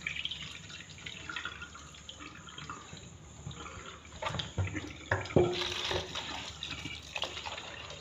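Hot water is poured off a pot of rice for Nigerian Easter jollof, splashing and trickling into a sink. It starts as a soft stream, then swells into louder splashes and drips near the end, close by.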